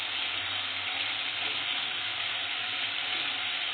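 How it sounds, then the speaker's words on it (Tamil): Rock salt and grated coconut are stirred in a frying pan for a mint chutney, producing a dense, even sizzle and crackle that holds steady throughout, with no speech. "நல்லா கிளறி விட்டுருங்க."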